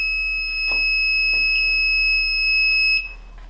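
A buzzer wired to an ESP32 board sounds as a steady, piercing electronic tone held for about three seconds before cutting off, with faint clicks and handling noise underneath.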